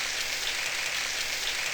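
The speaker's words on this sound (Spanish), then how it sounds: "Dele un aplauso a la palabra de Dios." Congregation applauding during a Spanish-language church sermon, a steady wash of clapping that runs the whole stretch without pause, moderately quiet and even, with no voices over it.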